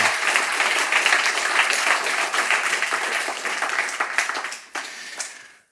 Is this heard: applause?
yes